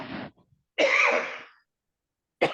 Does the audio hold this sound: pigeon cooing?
no